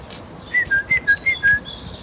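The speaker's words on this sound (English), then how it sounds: "Great tit coming in, calling right here." A young great tit calls in a cemetery, giving a quick run of about six clear, high, thin notes in close succession, near and distinct over quiet background.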